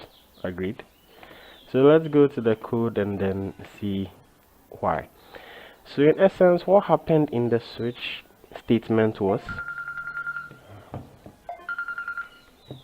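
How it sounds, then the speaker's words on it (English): A mobile phone rings in short electronic tone bursts late in the clip, following someone talking steadily. "that was my phone ringing"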